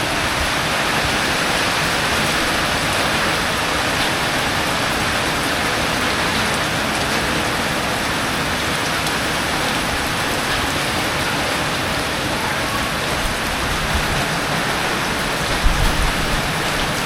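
Heavy rain pours down in front of a house, a loud, dense and continuous hiss of drops hitting surfaces, steady throughout with no voices.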